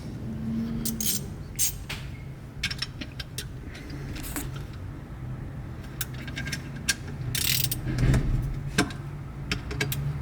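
A torque wrench ratchets with close, repeated clicks while an Allen key holds a shifter bolt, installing a Numeric Racing NM80 G-Body shifter on a Porsche 901/915/930 gearbox, with metallic handling noises in between.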